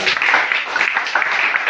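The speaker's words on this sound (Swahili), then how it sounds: "Pigia Yesu makofi mazuri." A church congregation claps during a worship service, a dense, steady burst of many hands close by that holds for under two seconds without a break.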